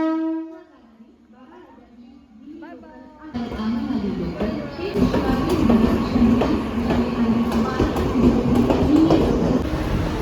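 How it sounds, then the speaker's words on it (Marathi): A crowded Mumbai local train runs along with a heavy, continuous rumble and rattling carriage clatter that swells after a quieter start, as voices chatter inside the coach. "बसलो आहे आम्ही ट्रेनमध्ये"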